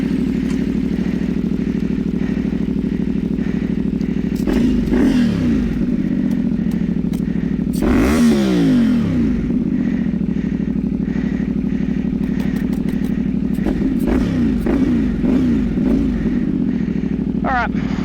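A heavy motorcycle idles and rides off in first gear in off-road mode at night, its steady engine drone loud and close throughout, with revs rising and falling a few times.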